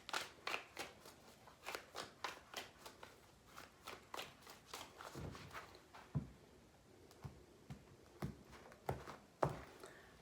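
Tarot cards being shuffled in several quick riffling bursts, crisp papery flutters close by with short pauses between them, no talking.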